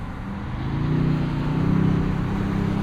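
A tuned twin-turbo 2026 Toyota Tundra TRD Pro pickup with a 10-speed gearbox drives in sport mode, its engine droning and rising in pitch steadily from inside the cab.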